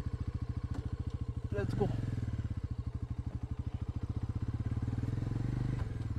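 A Bajaj Pulsar NS400Z motorcycle engine idles in sports mode with an even, pulsing thump, close and steady, while someone speaks briefly over it.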